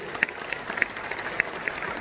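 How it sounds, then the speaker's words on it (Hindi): Applause from the audience at a Hindi kavi sammelan poetry gathering, moderately faint scattered clapping with a few sharper claps standing out over a steady crowd wash. "पर जोरदार तालियां अरुण जेटली में बुलाएंगे।"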